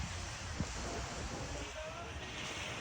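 Sea waves on the beach at Pattaya, Thailand, a faint continuous wash of surf mixed with wind noise on the microphone.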